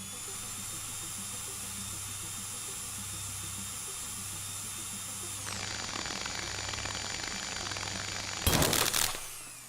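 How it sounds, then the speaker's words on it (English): Steady mechanical drilling whine from a drill press in a video game, with high tonal hum that shifts pitch midway, then a brief harsh burst of noise near the end. "I guess we're gonna drill whatever the hell this thing is."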